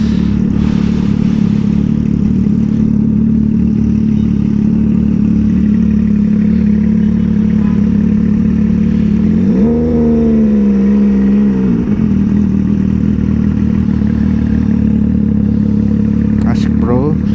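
An old Kawasaki Ninja RR 150 two-stroke exhaust idles loudly and steadily up close, then rises in a short rev around the middle before settling back; voices talk over the engine.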